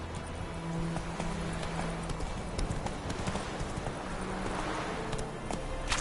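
Roach, the horse in The Witcher 3, gallops steadily in a rapid, continuous clip-clop of hooves at moderate volume, with faint ambient game sound underneath.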